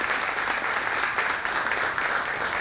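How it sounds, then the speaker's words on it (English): Steady, moderately quiet applause from a conference audience at a solar-energy and high-performance buildings event, a continuous even patter of many hands lasting the whole stretch without speech. "Want a big round of applause again for our analysts for joining us today."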